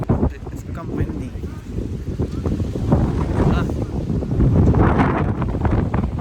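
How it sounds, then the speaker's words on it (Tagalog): Wind on a snowy mountain gusts and buffets the microphone with a continuous low rumble that swells and eases over a few seconds. "It's become windy."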